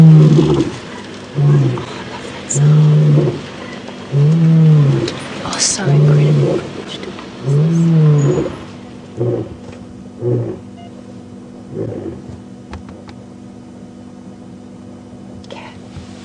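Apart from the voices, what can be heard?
lion roaring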